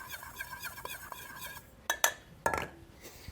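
A spoon clinks and scrapes around a bowl as crab and andouille stuffing for mushrooms gets mixed, a few sharp metallic taps landing near the end after softer stirring.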